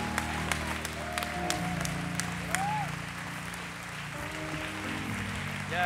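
Soft, distant congregation applause greets people walking forward to the altar at a church service, a steady patter under a low hum and a few voices.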